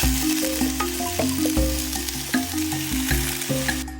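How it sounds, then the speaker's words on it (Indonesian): Vegetables stir-fried in hot oil with onions already fried until browned, cooked outdoors in a karst forest: a constant close crackling sizzle that runs throughout, with a steady tonal background underneath. "Sekarang bahan sayurnya aku tumis."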